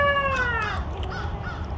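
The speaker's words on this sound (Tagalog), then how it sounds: "Ito yung bago kong rooster." A rooster and hens kept as backyard chickens make a short, loud, harmonic call that slides downward in pitch. Softer, quieter clucking follows it.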